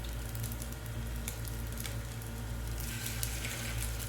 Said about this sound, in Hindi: जिस तरह मैं ये सारे कबाब बना के फ्राई कर लेती हूँ, लाइट सा ही फ्राई करना है 3-4 मिनट बस।